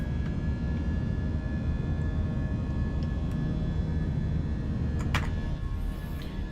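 Airbus A320 airliner engines in Microsoft Flight Simulator 2024 holding a steady, loud low roar at takeoff power, a continuous dense rumble with faint high whine on top.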